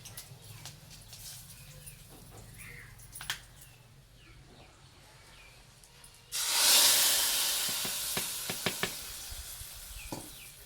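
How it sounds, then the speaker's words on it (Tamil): Hot oil hisses loudly as mustard seeds, fenugreek and curry leaves hit the pan to temper a fish curry, a sudden burst of sizzling that slowly settles, with small pops and crackles. "குழம்பு வந்து தாளிச்சாச்சு நான் கடுகு வெந்தய வர ரெண்டும் சேர்ந்து தான் இன்றைக்கி நான் தாளிச்சிருக்கேன்"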